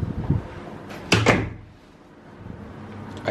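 A hotel room door swings shut with a loud, close slam that follows some quieter handling noises, and then a faint room hum lingers afterward.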